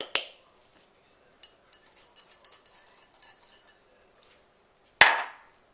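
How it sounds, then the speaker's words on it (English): Confectioner sugar going into a bowl: a sharp clink at the start, then a couple of seconds of soft, uneven rustling patter as it pours, and another loud clink of utensil on bowl near the end. "I'm going to start by putting my confectioner sugar in a bowl"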